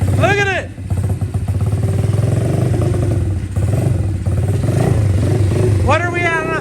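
A cheap Honda-clone dirt bike engine kicks over and runs loud and close, a steady rattling mid-pitched putter with clatter throughout, while people shout excitedly over it.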